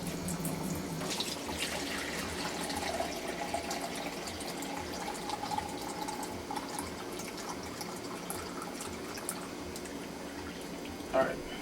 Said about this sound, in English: put some water from my sink